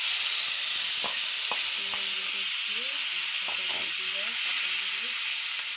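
Spices dropped into hot oil for a pangas fish dish sizzle and hiss loudly and steadily throughout, with faint clinks and a soft voice murmuring underneath.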